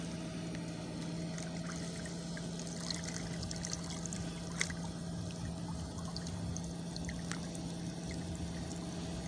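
Water flows steadily where a fish trap is set in a current, a continuous close trickling and pouring wash with no talk.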